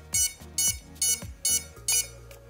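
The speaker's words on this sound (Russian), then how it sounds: "в нижнем положении этой кнопки у меня включается бипер" An FPV drone's beeper, switched on from its controller, sounds five loud, evenly spaced electronic beeps about half a second apart, close and with no voices.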